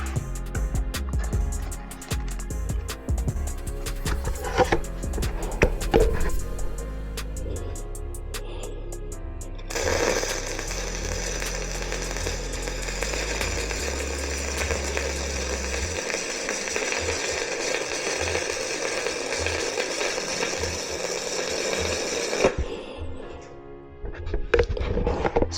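A Miller Multimatic 215 stick welding with a 6013 rod gives a steady crackling hiss that starts abruptly and runs for about twelve seconds, after some earlier clatter and handling noise.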